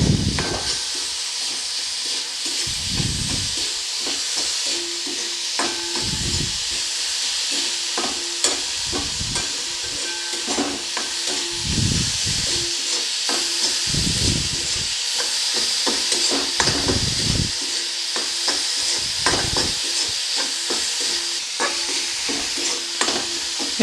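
Coconut and date palm jaggery filling being stirred in a pan, with a steady sizzle and hiss under repeated scraping strokes at a regular rhythm, close and moderately loud, no voices.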